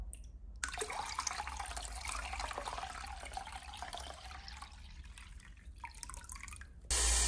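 Soaked tea tree mushrooms rinsed in a bowl or sink, with steady dripping, splashing water running throughout, close and moderately loud with no talking.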